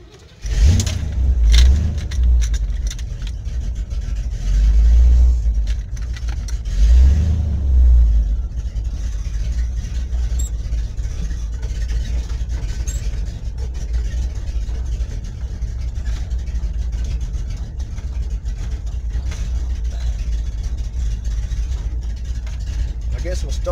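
Car engine revving from inside the vehicle, with deep low rumbling surges near the start and again a few seconds later, then a steadier running drone; someone talks over it.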